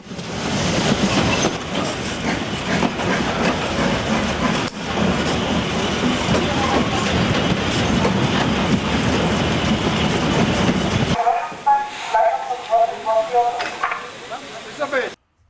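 A narrow-gauge railway train runs through the green Harz countryside with a loud, steady rolling rumble and rattle of the cars for most of the clip, then the level drops to quieter wheel clatter and squeals near the end.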